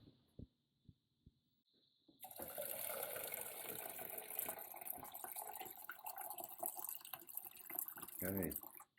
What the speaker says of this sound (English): then we fill this up with filtered water